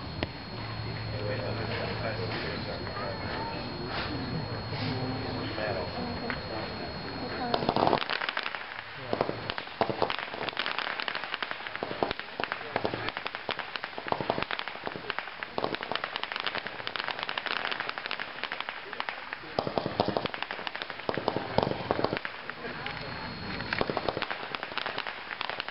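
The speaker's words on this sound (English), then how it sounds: "Fireworks Fiend, 225 shots." Consumer firework cake, the Fireworks Fiend 225-shot, goes off in a rapid, continuous string of crackling pops and bursts for most of the stretch, after a brief opening with a voice over background sound.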